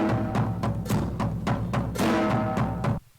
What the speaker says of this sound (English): So the right side of the drums I had driven heavier